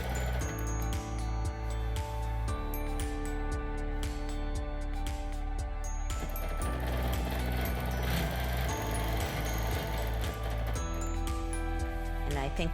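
A quilting machine stitches along a heart template with a steady, fast, rhythmic mechanical pulse of needle strokes. Light clicks and clinks sit over the even hum.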